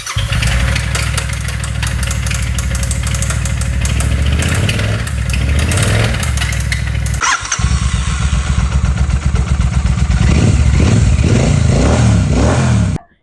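A Royal Enfield Meteor 650 motorcycle engine running loud and close after repair work, a steady idle that shifts midway into a rougher, harder-running note with throttle blips, ending abruptly.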